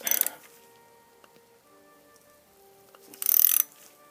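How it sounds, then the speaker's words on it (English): A ratchet works on an 8mm bolt of a Honda VF750F motorcycle engine during teardown, giving two short bursts of clicking at the start and end of the clip with quiet, faint metallic sounds between them. "I think that one there's 8mm, so I'll loosen that one off first."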